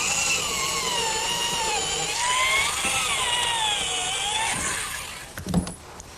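A power drill spins a 3/8 inch bit through wood for a picnic table bolt hole, a steady, wavering motor whine that runs for about five seconds and ends in a brief knock.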